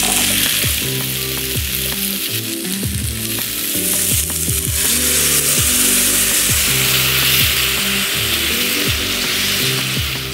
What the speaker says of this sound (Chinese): 我们现在先把配料炒一炒